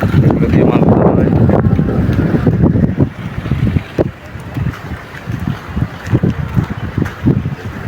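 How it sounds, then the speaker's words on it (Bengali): Wind and surf along a seashore where fishing trawlers are beached, a loud buffeting rush at first that gives way to broken gusts and splashing, with faint voices mixed in. "যেগুলো হচ্ছে ট্রলার, মাছের ট্রলার, এগুলো দিয়ে মাছ ধরা হয়"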